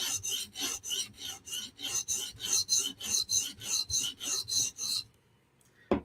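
A folding knife is sharpened on a Hapstone RS guided system with a steady series of about fifteen evenly spaced rasping sweeps along a stone, close and crisp, ending abruptly in near silence.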